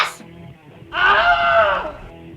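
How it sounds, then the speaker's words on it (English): Wilhelm scream effect in the horror film 30 Days of Night: a brief high cry at the start, then a loud, drawn-out wailing scream lasting over a second, heard alone. "That is the Wilhelm scream."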